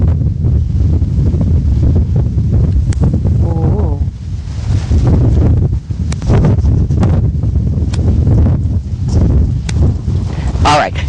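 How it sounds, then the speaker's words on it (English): Strong wind buffets the microphone outdoors with a continuous rough roar and gusting surges. People talk intermittently underneath. "It's much windier now than it was before."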